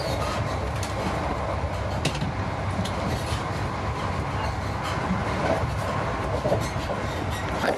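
Inside a refurbished HST passenger train leaving Edinburgh for Aberdeen, a steady, loud, broadband rumble of running gear fills the carriage, with faint rhythmic clicks from the rails and no talk.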